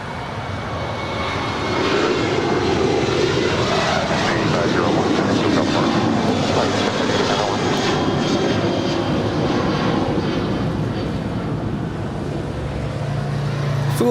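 Sun Country Airlines jet departing LAX for Kailua Kona, its engine roar building after a couple of seconds into a sustained broad rumble that persists, heard at moderate distance with faint background noise.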